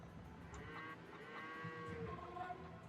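Cattle lowing in a real-time strategy game, several drawn-out moos rising and overlapping at moderate distance against a steady background hum, with no talk.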